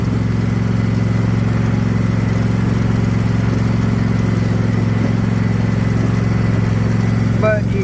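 A lawn aerator's small engine runs continuously in spring, a steady, loud, close drone with an even buzzing hum and no pauses.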